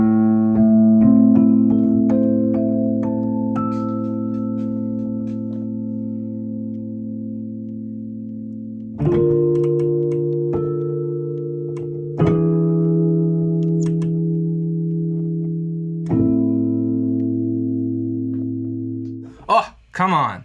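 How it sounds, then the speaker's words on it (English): A Neapolitan 6 chord, a flat-2 chord in first inversion, rings out and resolves through further sustained chords, each struck once and left to decay, with a brief burst of noise at the end. "This is the Neapolitan 6 chord."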